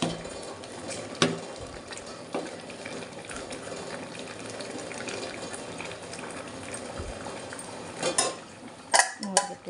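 Chili powder is stirred into cucumber dal in a pot. A spoon scrapes and knocks against the metal, with soft clinks throughout and a burst of sharper clatter near the end.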